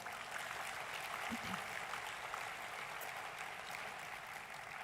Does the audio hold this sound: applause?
yes